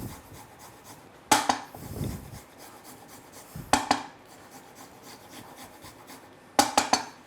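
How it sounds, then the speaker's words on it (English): Fresh ginger is scraped across a microplane grater in three short bursts of gritty rasping strokes, close up, with quiet pauses between them. "So I'm going to grate some ginger."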